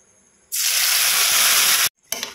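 A spice paste hits a hot kadai with a loud, sudden sizzle that roars steadily for over a second, cuts off abruptly, then crackles again more briefly as frying continues.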